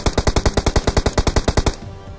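Gunfire in PUBG Mobile, a close, loud burst of about twenty rapid evenly spaced automatic shots fired as cover fire, stopping abruptly and leaving a short quiet tail.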